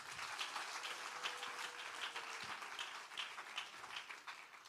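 A congregation claps together at a church service for mothers, a dense, steady patter of many hands heard at moderate distance, with a faint sustained tone underneath.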